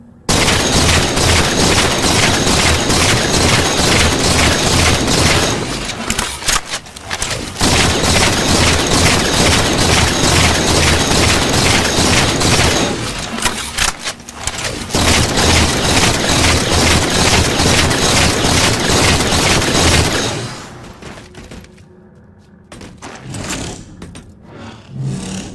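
Halo 4 weapons fire one after another in loud, dense bursts of rapid automatic shots, each volley running several seconds with short gaps between, then a sparser stretch of fainter firing near the end.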